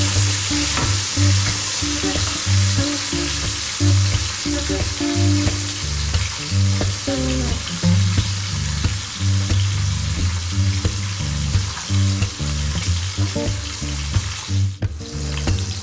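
Rohu fish pieces fry in hot oil in a kadai, a loud, steady sizzle with crackling that runs unbroken throughout, no voices.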